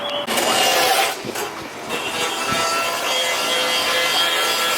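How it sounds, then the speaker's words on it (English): Power-tool cutting of studs under the clutch pedal of a G35 during an engine swap, a loud, close, continuous grinding whine with brief dips as the cut shifts. "So currently we cutting the studs under the clutch pedal."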